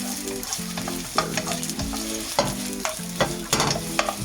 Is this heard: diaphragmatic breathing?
no